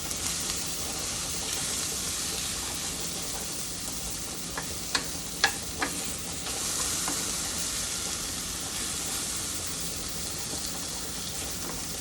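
Vegetables frying in a pan give a steady, close sizzle, with a few light clinks from stirring near the middle and no talking.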